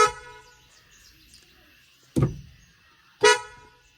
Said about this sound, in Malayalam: നമ്മുടെ വണ്ടിയുടെ ഹോണിൻ്റെ പെർഫോമൻസ് എങ്ങനെയുണ്ടെന്ന് കാണിച്ചു തരാം